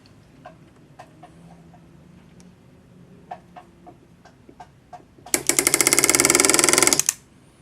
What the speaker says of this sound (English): If you use a hammer handpiece for this, have it set on your lowest setting